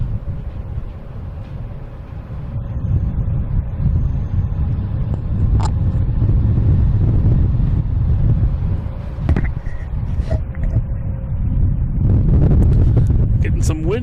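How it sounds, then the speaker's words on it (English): Wind blasts across the microphone at a plane-spotting spot at Boston Logan Airport, making a loud, continuous low roar and buffeting with a distant rumble beneath it. "Getting some wind here."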